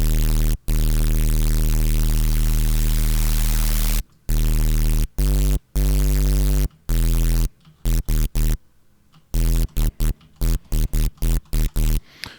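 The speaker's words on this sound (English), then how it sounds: "I'm going to get serum effects here and I'm going to turn on distortion" Serum synth patch run through Stomp Box distortion, a loud, buzzing, harmonically dense drone with white noise, held for several seconds then chopped into rapid stuttering bursts and gaps, no speech.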